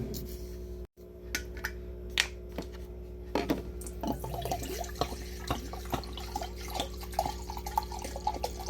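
Roughly 700 ml of 96% alcohol spirit is poured into a bowl, giving a steady trickle with scattered drips and splashes after a brief pause near the start.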